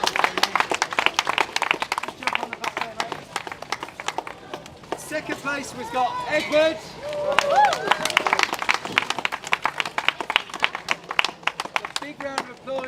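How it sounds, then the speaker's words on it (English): Clapping and cheering from a crowd at a British Kart Championship podium ceremony after a Bambino final at Rowrah, steady rhythmic applause running throughout beneath a presenter speaking over a loudspeaker. "Big round of applause for your overall winner."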